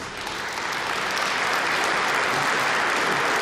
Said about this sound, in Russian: Это ожидаемые аплодисменты.